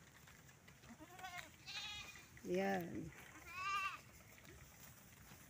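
Goats bleat several times while being herded in a rural Philippine province, distinct wavering cries spaced across a few seconds, one louder and closer than the rest, with a brief spoken word near the start.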